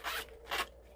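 Zipper on a small wristlet bag pulled in two quick, close rasping strokes, crisp and near with no talking.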